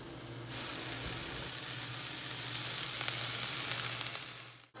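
Taco meat seasoned with Creole seasoning and cumin fries in a pan, giving a steady, close sizzle with a constant background hum underneath, without any talking.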